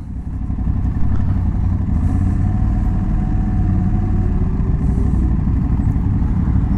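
An Aprilia Tuareg 660 motorcycle rolls slowly over gravel, its engine a loud, steady low rumble close by, with faint crunching underneath and no change in pace as it eases toward a stop.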